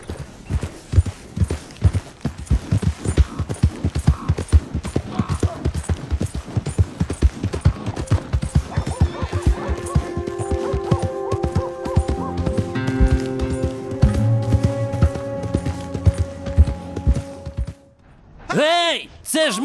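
Horse hooves clip-clop steadily in Red Dead Redemption 2, a fast rhythmic trot that runs throughout while someone speaks over it, ending in a brief swooshing flourish.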